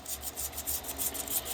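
Steady back-and-forth rasp of sandpaper working over pocketknife liners and the back spring, rhythmic rubbing strokes close and fairly loud, no speech.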